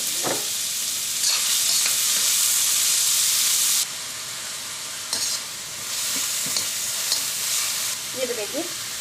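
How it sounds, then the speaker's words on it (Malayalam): Chopped onions frying in hot oil in a pan for a Kerala mutton curry, a loud steady sizzle that drops in intensity partway, with scattered stirring knocks and scrapes and no voices. "എണ്ണ നന്നായിട്ട് ചൂടായിട്ട് ഇതിലേക്ക് നമുക്ക് അരിഞ്ഞു വെച്ചിരിക്കുന്ന സവാള ചേർക്കാം."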